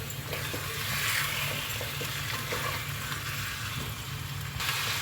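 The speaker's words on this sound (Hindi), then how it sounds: "मसाले ऐड करते के साथ ही कितनी प्यारी सी ये देखें कलर के साथ हमारी चिकन फ्राई होना शुरू हो चुकी है" Chicken fries steadily in a pan with spices for a jalfrezi, giving a dense, continuous close sizzle with faint stirring clicks and no talk.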